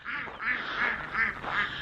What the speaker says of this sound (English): Our ducks and chickens ready to be fed.